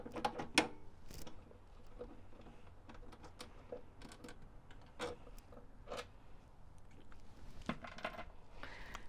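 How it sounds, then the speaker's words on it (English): A socket wrench clicks and ratchets while backing a nut off a 1970s AIMS VTG-105 during repair, giving quiet, close metallic ticks and small clinks in irregular bursts. "I'm just gonna go in with my socket to remove this nut here."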